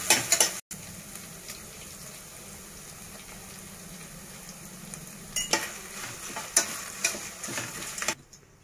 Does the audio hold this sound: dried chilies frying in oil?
yes